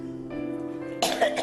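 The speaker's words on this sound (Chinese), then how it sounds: "咳嗽还在加重。" A woman coughs, first with a tonal, voiced sound and then with a sharp, loud burst of harsh coughing near the end, heard up close.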